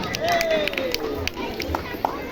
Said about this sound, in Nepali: ताली बजाएर स्वागत गरिदिनु होला।